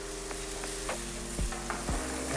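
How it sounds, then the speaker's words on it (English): Red wine poured into a hot pan for chicken coq au vin, deglazing with a loud, steady sizzle and a few brief scraping knocks, heard alone without talk. "We add the red wine."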